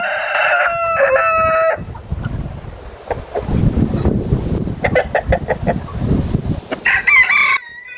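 Chickens cluck and a rooster crows at the start near a duck coop, with bursts of wind buffeting and more clucking calls scattered through.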